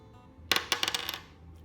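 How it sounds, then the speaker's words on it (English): A die is thrown onto a hard surface, producing a quick burst of several light clattering taps and bounces that settle within about a second, fairly faint in a quiet room. "The first attempt I throw a dice, I got 2."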